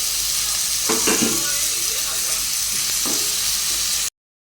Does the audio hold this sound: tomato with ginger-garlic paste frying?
yes